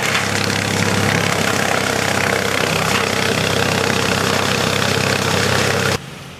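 A tractor idles with a wood shredder attached at a tree-felling site, a steady loud low engine drone with vibration running continuously before dropping off abruptly near the end.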